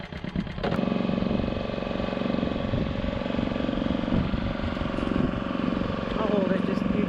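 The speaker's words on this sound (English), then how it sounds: "So we've got the generator here." A gasoline generator runs steadily at a campsite, giving a continuous loud mechanical engine drone throughout, with a brief clatter at the start and no pause in the running note.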